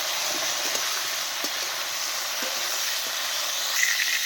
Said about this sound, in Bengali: ভেজে নিচ্ছি ফুলকপিগুলোকেও